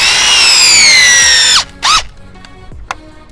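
A power drill bores pilot holes into a thin piece of reclaimed wood for a fence repair. It gives a loud, high whir for about a second and a half, then a second short burst, followed by faint clicks.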